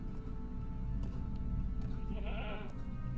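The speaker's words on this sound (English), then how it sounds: "that's the goat we want" A goat bleats in LOTRO, a short wavering bleat near the end of the clip over a low hum of ambient game background and music, moderately loud with no speech.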